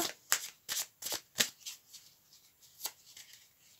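Tarot cards handled at close range as one is drawn from the deck, with a quick series of soft papery slides and flicks that fade into a few lighter rustles in a quiet room.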